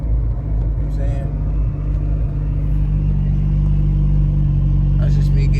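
Twin-turbo 300ZX engine swapped into a 1995 Nissan 240SX with automatic transmission, building a little boost short of full throttle: a steady, loud low engine drone and rumble that holds throughout with slight rising whoosh near the end.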